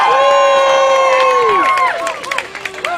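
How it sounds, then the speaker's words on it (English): Protest crowd at a renewable energy rally outside a power company headquarters, cheering loudly with whoops and shouts that start dense and continuous and thin into scattered calls by the end. "give yourselves a hand for coming today"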